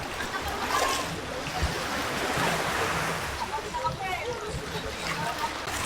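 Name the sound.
sea waves on the shore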